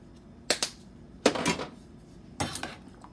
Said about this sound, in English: going to mix this up